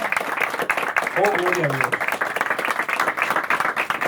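A church congregation claps for the Lord at a mission conference, sustained applause under a voice speaking and exclaiming over it.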